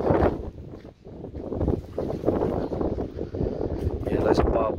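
Fresh wind gusts across the microphone on a quiet residential street in Quetzaltenango, Guatemala, a rough rumbling rush that rises and falls continuously at close range.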